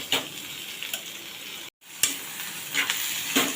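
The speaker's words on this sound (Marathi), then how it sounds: "आता आपण हा कांदा पहिले चांगला भाजून घेऊया" Onion fries in a pan for a baby shark fish curry, a steady close sizzle with light clicks of stirring, briefly cut to silence before the sizzling resumes.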